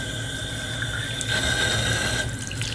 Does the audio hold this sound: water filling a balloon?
yes